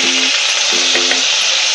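Green chilli and ginger garlic paste sautéing in hot oil in a pan for a chilli idli, a steady broadband sizzle with a few brief stirring scrapes, close and fairly loud, no voices.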